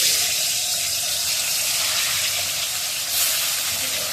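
Salted, turmeric-rubbed fish frying in hot oil tempered with fenugreek seeds, a loud, dense, steady sizzle and hiss close by that swells briefly near the end, with no talk.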